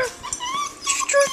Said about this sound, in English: Ah, the puppy.